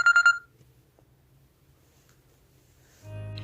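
Quick electronic phone tones beep several times in fast succession, then a short silence before a steady buzzing ring tone begins, clear and close in a quiet room.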